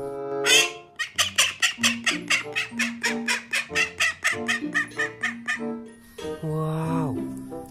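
A rapid series of loud, nasal quacking calls from a duck, close by, in a steady run, followed by a longer drawn-out honk.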